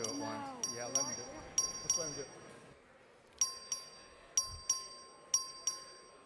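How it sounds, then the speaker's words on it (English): A bright bell rings repeatedly in quick double strikes, clear and ringing, calling a record vote in a legislative house chamber, while a voice speaks briefly at the start. "The clerk will ring the bell."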